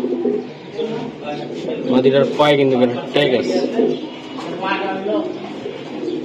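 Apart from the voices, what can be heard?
pigeons cooing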